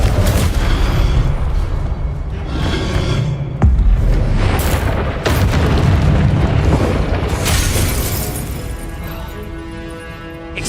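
Loud, booming spell blasts in a Hogwarts Legacy duel, several heavy explosions bursting one after another with rumbling debris, the sound full and close and not masked by talk.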